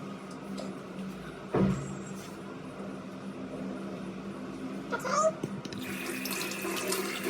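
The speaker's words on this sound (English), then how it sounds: "first I have to wash my face and clean my face" Water runs from a tap into a sink during face washing, a steady close rush with a few splashes and clatters partway through, heard alone without speech.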